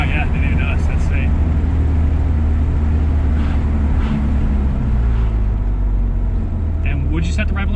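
A Honda K-series swapped Porsche 996 roars from inside the cabin with a loud, continuous engine drone that stays strong throughout, and short bursts of voices briefly rise over it.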